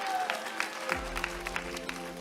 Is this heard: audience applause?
yes